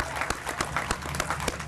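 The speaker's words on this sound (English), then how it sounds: "Give yourselves a round of applause here in the city of Aurora" Crowd applause at a Memorial Day parade in Aurora, a short burst of dense, steady clapping from many hands, loud and close, with no talk over it.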